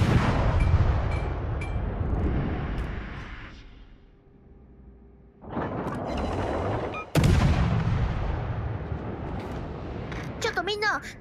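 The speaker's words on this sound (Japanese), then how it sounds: "主砲発射。" Warship main guns fire in World of Warships: Legends, with heavy booming salvos and rumbling blasts, a brief lull, then sharp renewed shots; a voice talks over much of the action.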